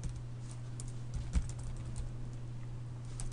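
Keys clatter softly on a computer keyboard in a quiet room, a light, uneven series of taps over a low steady hum.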